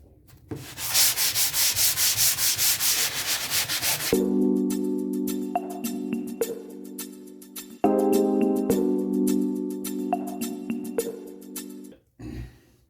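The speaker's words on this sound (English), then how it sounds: "I'm gonna do a quick sand for it." Sandpaper rubs in steady back-and-forth strokes over a dried drywall patch, loud and close, briefly joined by a tonal hum.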